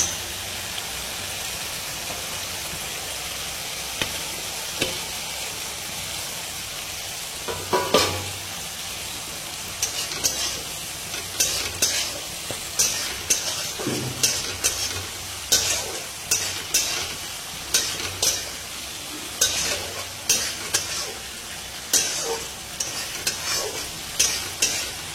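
Chopped onion sizzles in a pan for an Odia fish curry, a steady frying hiss that becomes punctuated about halfway through by regular scraping strokes of a spatula stirring close up, with no talk.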